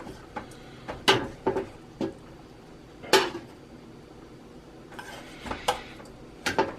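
Utensils clink and scrape against metal cookware while stew meat is placed onto a dip sandwich in a kitchen, making scattered, close taps and clatters separated by short quiet gaps.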